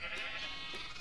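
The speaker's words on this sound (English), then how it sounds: "And we got the rainbow sheep." Rainbow sheep bleating in the Minecraft video game, one drawn-out nasal bleat, clear and close.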